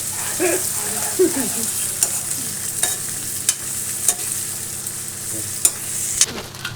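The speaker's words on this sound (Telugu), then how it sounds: "ఇప్పుడు టమాటా వేస్తా ఉన్నాము" Tomatoes fry in a pan for brinjal masala, with a steady close sizzle and repeated clinks and scrapes of a spoon stirring at a loose, uneven rhythm.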